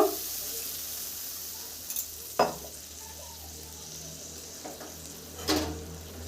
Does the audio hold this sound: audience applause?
no